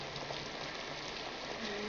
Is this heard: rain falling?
yes